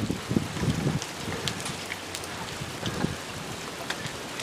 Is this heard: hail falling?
yes